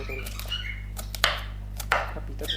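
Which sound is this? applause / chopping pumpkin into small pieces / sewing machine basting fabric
chopping pumpkin into small pieces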